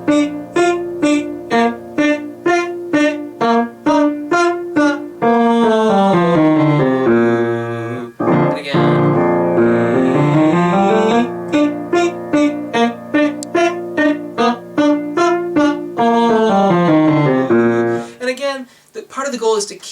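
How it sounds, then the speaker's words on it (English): Sung tenor vocal warm-up: a one-octave major scale rising and falling, followed by quick, agile arpeggios on top, delivered as a steady run of clear sustained and short notes with brief pauses, loud and close with no accompaniment audible. "It's an entire one octave major scale followed by arpeggios on the top of it."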